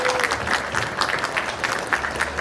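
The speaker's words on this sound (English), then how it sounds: "give a round of applause" An audience at an improv Dungeons & Dragons show at Fan Expo Chicago 2022 applauds, a dense, even wash of clapping that holds steady throughout.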